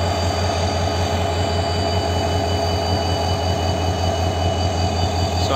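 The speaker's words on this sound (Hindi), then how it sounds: "Wow, just amazing power of diesel locomotive." An EMD WDP4D diesel locomotive of Indian Railways starts up, producing a loud, steady, close engine roar with a deep rumble that runs unbroken throughout.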